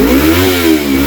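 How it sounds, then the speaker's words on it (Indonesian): A Yamaha MT25 motorcycle fitted with an RX3 aftermarket exhaust and dB killer revs up and holds a steady, deep, muffled engine note up close, with a slight dip and rise in pitch and no talking. "inilah suara knalpotnya ketika menggunakan DB killer"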